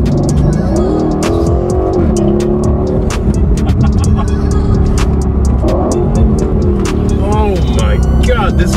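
A 2021 Aston Martin Vantage drives over badly broken road surface, its engine and tyre roar loud and close with repeated sharp thumps and clatters from the rough pavement, while someone talks over it.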